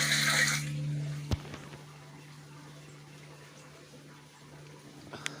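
Water gushing from a solar-powered motor pump, a steady rushing flow over a constant low hum, with a couple of sharp knocks.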